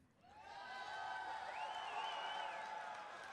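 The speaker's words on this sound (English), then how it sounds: "All right, round of applause." A crowd of panel attendees cheers and applauds in a convention hall, a steady wash of noise that swells and holds loud throughout, with a sustained whistle or shout rising above it midway.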